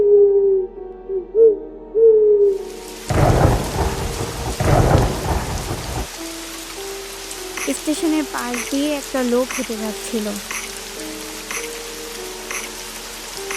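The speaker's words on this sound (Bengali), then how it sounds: "হঠাৎ বিদ্যুৎ চমকে বৃষ্টি আসায়" A thunderstorm sound effect in a Bengali horror cartoon set late at night at an old station by a hill: a loud thunder crash, then steady rain and eerie hooting tones, under a narrator speaking throughout.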